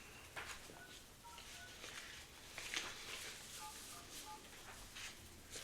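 Telephone dialing tones while placing a call come as a sequence of short, faint, evenly spaced beeps in two brief bursts over quiet room noise.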